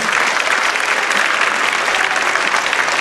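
Applause from a church congregation at a Malayalam healing and prayer service led by a priest in London, broad and steady clapping that fills the whole stretch, loud and close, with no talking over it.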